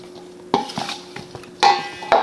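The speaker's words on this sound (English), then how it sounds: "We're gonna just give them a little stir here." Warm fried chicken wings get tossed with salt in a metal bowl or pan, a few sharp clinks and scrapes of a utensil in short bursts, close and without talk.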